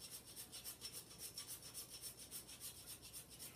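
Whole nutmeg grated on a microplane in a kitchen, a soft, steady rhythmic rasping of repeated strokes, faint and close, no voices.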